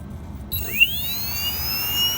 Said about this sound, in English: I think there is something going on with this motor. Maybe it is a bearing issue.